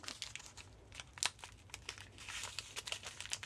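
A small packet of blue raspberry popping candy crinkles and rustles close up, with sharp plastic crackles and a couple of louder crumples, handled without talk.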